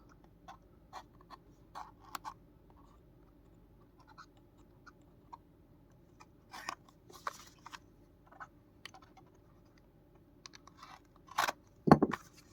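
Packaging for a Switchbot Hub Mini smart hub being opened, scattered faint crinkles, taps and scratches spread across the stretch, sharper rustling near the end, no speech.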